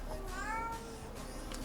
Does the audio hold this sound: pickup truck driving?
no